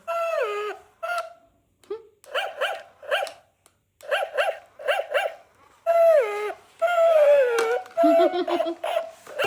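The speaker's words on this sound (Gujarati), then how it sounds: "જો ગાઈસ કેવા ડોગી લઈને ફરવા જાય" A dog barks repeatedly in short bursts and yips during an outdoor walk, close and fairly loud, with a few whimpering high notes between barks.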